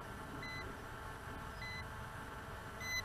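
Three short, high electronic beeps sound at even intervals over a steady whirring hum from a hovering ZLL SG906 MAX GPS drone, fairly faint against the constant motor drone.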